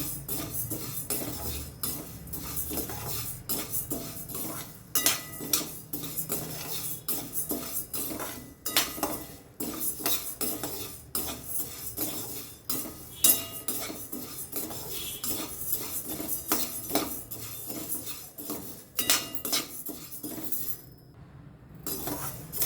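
Urad dal roasting in a pan for sunnundalu sweets is stirred with a spoon, producing close, irregular scraping and metallic clinks against the pan throughout, with no talking.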